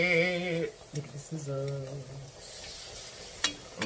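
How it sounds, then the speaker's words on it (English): Pork belly and seafood sizzle in a hot pot, a soft, steady crackle with light stirring clinks. A voice hums and speaks over the opening, and the sizzling continues more clearly afterward. "Look at the sizzle."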